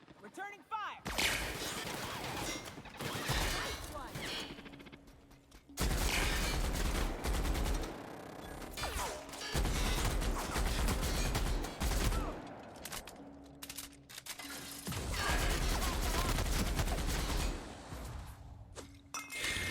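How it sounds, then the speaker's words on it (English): Repeated loud bursts of gunfire at outlaws in The Outer Worlds, several sustained volleys of rapid shots with cracks and clangs, separated by short lulls, with voices talking in between. "We're just gonna shoot the outlaws this time."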